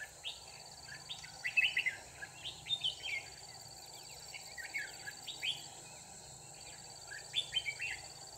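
Red-whiskered bulbuls call around a bird trap in the late afternoon, giving bursts of bright, repeated chirps that come and go over a constant hum of insects.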